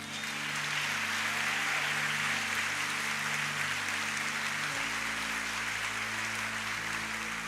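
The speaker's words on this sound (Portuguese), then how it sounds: "Aplauda o Senhor." A church congregation claps in praise during a Portuguese-language sermon, a broad, continuous wash of applause from many people, with a low sustained hum of instruments or organ underneath throughout.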